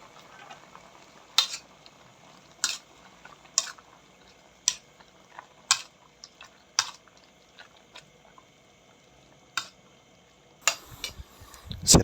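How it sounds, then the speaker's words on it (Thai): Vegetables with fried pork belly are stir-fried in a pan, heard as separate sharp scraping and clanking strokes about once a second over a faint background, close by and with no talking. "มาเด้อผัดผักแซ่บๆครับผม"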